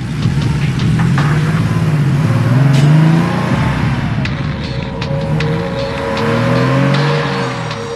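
A car engine revs loudly and pulls away, its throaty drone swelling and easing over several seconds in a Hindi comedy film scene.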